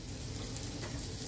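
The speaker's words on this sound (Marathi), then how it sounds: "तुपामध्ये हे भाजून घेते।" Steady close sizzle of dates and raisins roasting in ghee in a pan, a continuous frying hiss with no talk.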